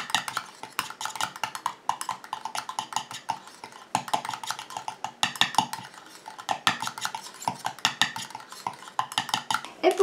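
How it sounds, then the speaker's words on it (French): A homemade anti-spot cream mixture being stirred in a small container, with rapid, irregular clinks and scrapes of a utensil against the sides, close and fairly loud throughout. "Je mélange."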